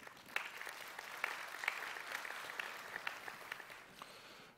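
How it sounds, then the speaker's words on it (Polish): A crowd claps steadily for a few seconds, a dense patter of hands that fades out at the end. "Przy okazji duże brawa dla Łukasiewicz PIT."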